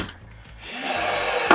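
A rivet being driven into a Land Rover Defender during window installation: a sustained, loud power-tool whir building through the clip and ending in a short sharp burst near the close.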